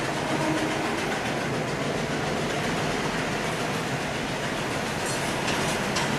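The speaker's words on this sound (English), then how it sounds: "There's peak hour traffic at the moment, and so the trains are going quite often." Trains rumbling past during peak hour near a construction area in Sri Lanka, a loud continuous roar of rolling wagons with faint clacking throughout, no voices.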